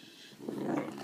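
A puppy gives a low growl that swells into a throaty grumble partway through, close by and moderately loud, with no one speaking over it.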